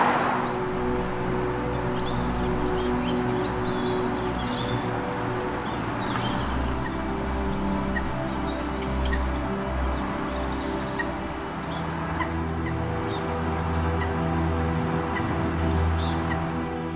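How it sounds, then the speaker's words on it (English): Small birds, sparrows and blue tits, chirp and twitter along a canal towpath, a steady layer of overlapping calls at moderate distance over a continuous low rumble. "It's full of birds, lots of sparrows, some blue tits."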